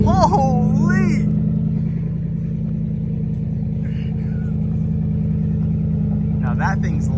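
A lowered Honda Civic Si sits idling with a deep, loud, steady exhaust rumble throughout, while people talk and exclaim over it nearby.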